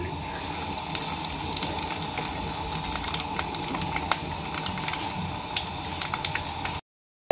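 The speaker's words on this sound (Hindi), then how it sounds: "तो इसमें हम अपने प्याज फ्राई कर लेंगे" Chopped onions frying in mustard oil in a pan, a steady dense sizzle and crackle running continuously at close range with occasional faint clinks, cutting off abruptly into silence just before the end.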